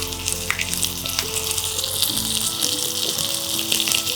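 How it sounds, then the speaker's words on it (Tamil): Cumin and onion paste frying in castor oil for a herbal remedy, giving a close steady sizzle with bubbling and small pops, and a low hum underneath. "காஞ்சதும் சீரகம் சேர்த்து பொறிச்சிடணும்"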